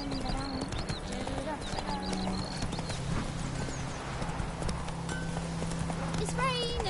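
Roach the horse trots along in The Witcher 3, hooves clip-clopping in a steady rhythm under a constant bed of game ambience, with a person talking over it.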